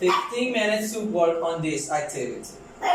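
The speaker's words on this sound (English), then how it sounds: "Sorry, that's my dog." A pet dog barks and yips a few times in the background of an online class while a teacher talks over it continuously.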